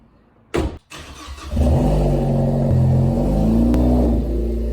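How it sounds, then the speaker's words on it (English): A Ford Focus ST starts with a short crank, then settles into a steady loud idle and low engine rumble as it is pulled out, close by with no talk. "I'm going to get the car pulled out and we'll get started cleaning this thing"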